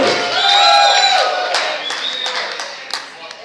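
Audience clapping and cheering at a stand-up comedy show in Highlands Ranch as a comedian from New York takes the stage, a loud swell of applause with whoops that fades over a few seconds, with voices mixed in.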